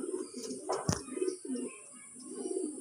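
A male red-eyed pigeon gives soft, low repeated coos at close range, a few throaty phrases over a quiet room with a faint high whine and one brief knock.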